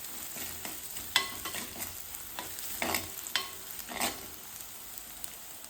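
Shallots cook in a pan with turmeric and spice powders for a fish curry, giving a quiet sizzle broken by several sharp scrapes and clinks of a spoon as they are stirred, with no voices.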